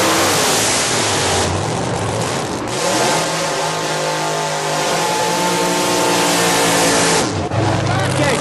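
A door slammer and a supercharged funny car roar at a drag race in a loud, continuous blast of engine noise that swells and surges, with a voice talking underneath.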